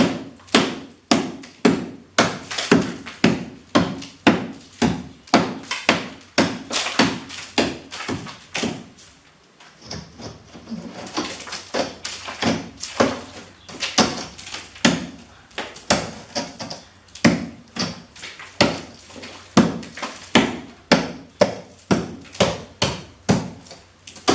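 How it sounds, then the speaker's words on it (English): A sledgehammer breaks out a kitchen wall, pounding in a long, steady series of heavy thuds roughly one per second, close and loud, with a brief pause partway through before the blows resume. "Come on, I need a sledgehammer."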